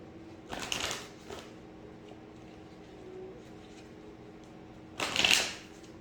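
Tarot cards are shuffled in two crisp riffling bursts, one early and one near the end, with a quiet pause between them and no talking.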